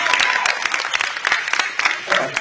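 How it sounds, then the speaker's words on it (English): A crowd claps for Nicole at a live community event about teacher nominations, brisk uneven applause with distinct individual claps, close and fairly loud, some voices faintly mixed in. "Let's give Nicole a round of applause."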